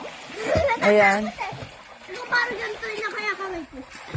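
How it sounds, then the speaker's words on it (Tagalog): People swim in water at midnight, their loud splashing rising in bursts under close, chattering voices. "Naliligo pa sila kahit ano na, 12 midnight na."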